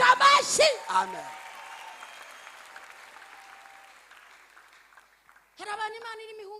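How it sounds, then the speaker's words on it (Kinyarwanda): Church congregation applauding during a sermon, a burst of clapping at the start that fades into a long tail, with a voice resuming at the end. "Komera Imana yacu amashyi."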